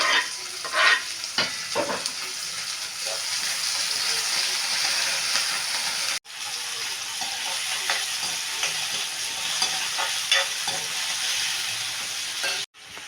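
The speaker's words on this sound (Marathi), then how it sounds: "टोमॅटो टाकला छान तळून घेऊ" Onion and tomato fry in a pan for a home-style Maharashtrian matki bhaji, with a steady, close sizzle and occasional stirring scrapes throughout and two brief cuts in the sound.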